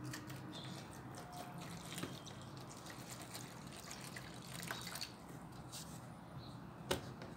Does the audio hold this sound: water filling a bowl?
yes